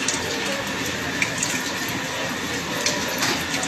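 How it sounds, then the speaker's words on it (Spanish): Floodwater pours into a flooded room through electrical sockets, giving a steady rushing stream like a running tap, with faint splashes and drips underneath. "Por los tomas entra el agua."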